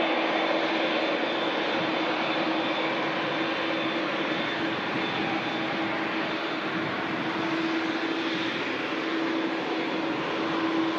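An Egypt Air Airbus A321neo arriving from Cairo at Manchester Airport, its engines producing a steady, loud roar with a sustained hum that holds throughout.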